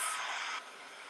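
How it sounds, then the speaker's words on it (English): A steady, loud airy hiss of a heat gun blowing close by, warming thin material on a glass jar, dropping slightly in intensity partway through, with no voices. "use my heat gun now to make it nice and warm"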